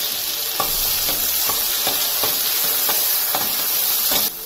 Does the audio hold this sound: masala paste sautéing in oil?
yes